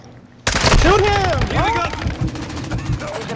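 Video game gunfire bursts out in rapid, loud volleys of shots after a brief quiet start, then continues in quicker rattling fire, with players' excited voices mixed in.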